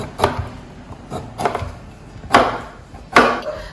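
A knife chops coconut pieces finely on a board for a traditional chicken roast (kodi iguru), giving four sharp, separate chops at an uneven pace, close and clear with no talking.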